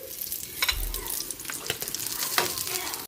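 Fish fries in a pan with a close, crackling sizzle, broken by intermittent stirring and scraping clatters and a soft splash of liquid.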